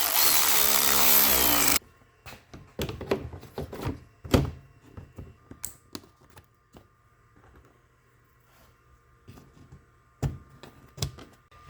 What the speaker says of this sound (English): this is perfect time to use our new stubby little ratchet again